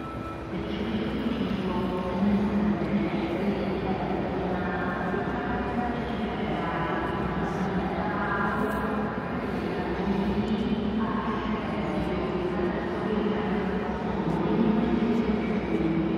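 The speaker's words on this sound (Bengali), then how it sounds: "ছেড়ে দিয়েছে আমাদের ট্রেন RJ75 OBB রেলজেট।" An ÖBB Railjet train RJ75 runs toward Vienna Hauptbahnhof, a steady interior rumble and rail roar with rising and falling whine tones, heard from inside a coach throughout.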